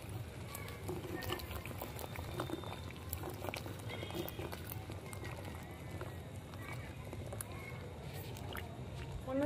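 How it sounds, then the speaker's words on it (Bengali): Dal lentils simmering in a small amount of water with green chilli, a steady low bubbling boil with light pops and faint kitchen clicks throughout. "অল্প অল্প জল দিয়ে সেদ্ধ করে নিচ্ছি ডালটা"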